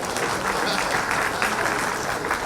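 Steady applause from an audience at a ceremony in the Jharkhand ministry auditorium honouring statehood movement activists, a dense, continuous wash of clapping that holds evenly throughout.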